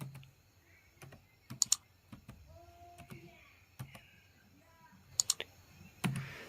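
Keystrokes on a computer keyboard while a command is entered in MS Word, a quiet run of separate clicks with a few sharper clustered taps and a final louder key press, close by with no speech.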